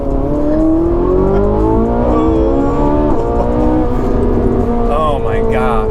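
A loud Ferrari 458 Italia engine revs and climbs through gears close by, roaring steadily, with people exclaiming over it toward the end.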